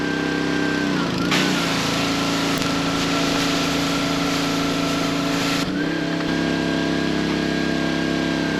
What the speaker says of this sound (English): Is the power washer bothering y'all?